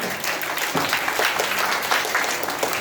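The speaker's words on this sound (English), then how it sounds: "Clap for her." A room full of people at a school speaking event applauds, a dense patter of many hands clapping steadily at moderate loudness.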